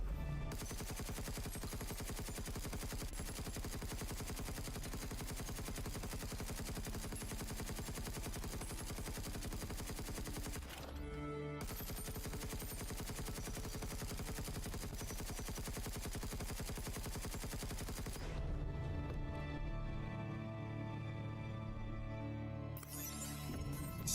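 Sustained automatic gunfire at a block in Space Engineers 2, a dense unbroken rattle of rapid shots that pauses briefly, resumes, then gives way to a quieter mechanical whir near the end.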